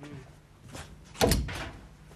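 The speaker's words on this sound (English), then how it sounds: "would you like to come in and shut the door?" An indoor door is pushed shut with a single solid thump, close and fairly loud, followed by a short fading rattle, with quiet room tone before it.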